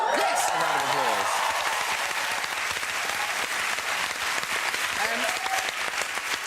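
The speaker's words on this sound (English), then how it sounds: "A round of applause." Sustained applause from a sizable television talk-show studio audience, steady and loud, with a few voices briefly audible at the start and near the end.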